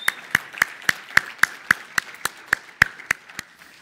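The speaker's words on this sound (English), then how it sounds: "would you join me in giving a round of applause to them" Steady, evenly spaced handclaps at a church mission gathering, about a dozen sharp claps keeping a brisk rhythmic beat, fairly close and clear with no talking.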